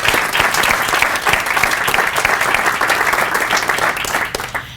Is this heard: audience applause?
yes